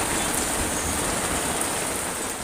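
Heavy rain pours steadily at a mountain campsite on Mount Slamet, a dense continuous hiss of drops with no breaks and no voices.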